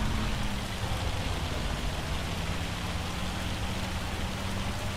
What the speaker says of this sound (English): Looks like I've got hailstones in May.